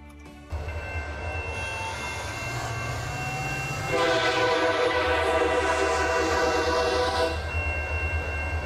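A Canadian National freight train in the Transport Fever simulation game, running with a steady low rumble before its multi-tone horn blares loud and sustained for several seconds, then the engine drone continues.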